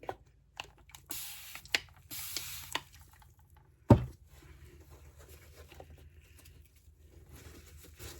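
A spray bottle spritzes 99% alcohol in a few short, soft bursts, and a louder thump follows, with quiet handling noise afterward.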